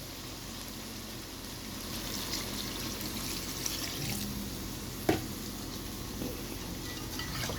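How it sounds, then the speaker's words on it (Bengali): Hot water pours into a pot of chicken curry with potatoes, giving a steady rushing and bubbling hiss over the simmering pot, with one sharp clink partway through. "এখন দিয়ে দিব গরম পানি"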